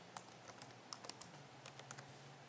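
Soft, irregular keyboard key presses on a computer as a username and password are entered, quiet and close, with no talking.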